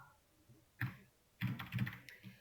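Computer keyboard being typed on while entering C code, a few brief bursts of clustered key clicks with pauses between, close and moderately quiet, no voices.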